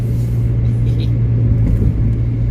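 Loud, steady low rumble of a car with a noisy muffler while driving, a continuous deep droning exhaust tone with no talking.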